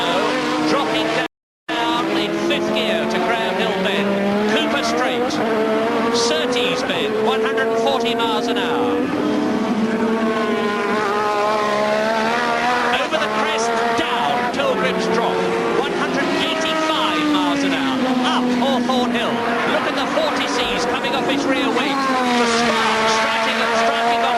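A 1986 Formula One race car in practice at the British Grand Prix screams at full speed, its high engine pitch climbing and dropping through repeated gear changes, loud and sustained, with a commentator talking over it.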